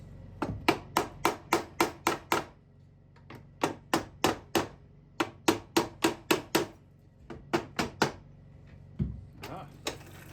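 Sharp hammer blows drive a bushing back into place, landing in quick rhythmic bursts of six to nine close, loud strikes separated by short pauses, with a brief scrape or knock near the end.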